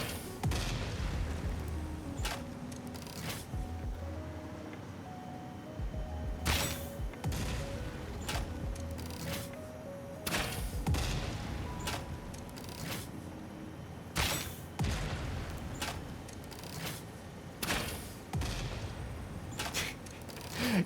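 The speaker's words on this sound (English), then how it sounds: "let's get exploding" Explosions in the video game Satisfactory, a long series of loud booms and blasts at irregular intervals, some in quick clusters, layered over a rumbling background with no talk.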